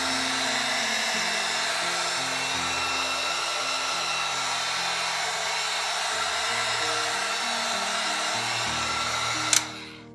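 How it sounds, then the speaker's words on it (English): A heat gun blows a steady, loud whooshing roar while melting wax on a shoe being mirror-shined. It runs continuously for about nine seconds, then cuts off with a sharp click near the end. "I have the heat gun right here. You're just gonna add heat."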